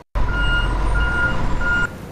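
A snow plow and salt truck backing up sounds a steady run of loud, close reversal beeps over a low engine rumble, with the tone pulsing evenly before stopping.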